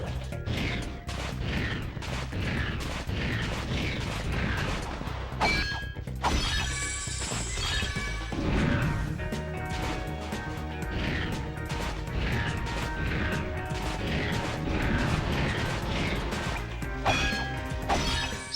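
Seeker weapons firing on a large enemy in Ratchet & Clank: Going Commando, a dense run of crashing, shattering impacts and mechanical clatter over game music, steady and loud throughout with no talk.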